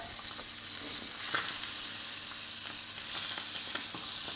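Guinea fowl skin crisps in a hot pan with a steady, close hiss of frying, a dense crackling sizzle that swells slightly now and then with no voices.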